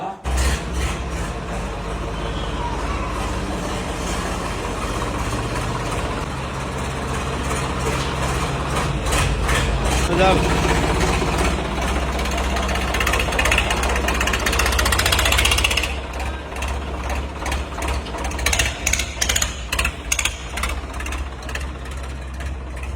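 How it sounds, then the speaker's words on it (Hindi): A heavy tractor engine runs continuously with a deep, throbbing idle, swelling louder midway before a shift to a rougher, knocking rhythm near the end. "तो चलो निकालते हैं भाई ट्रैक्टर को बाहर अब बिना किसी देरी के।"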